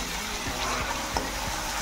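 Tempering for Maharashtrian kadhi sizzles steadily in a pan as ground masala cooks, a continuous close frying hiss with a few soft stirring scrapes, no voices.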